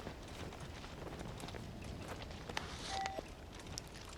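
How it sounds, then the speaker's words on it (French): Footsteps walking through snow in the mountains, quiet close crunches in an irregular walking rhythm with a faint brief tone partway through. "les bruits de pas dans la neige, j'adore"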